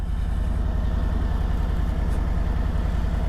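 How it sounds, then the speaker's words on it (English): A low, steady motorcycle engine putters at about 5 miles an hour, a continuous rhythmic rumble with no voices. "The bike is moving along. It's going about 5 miles an hour."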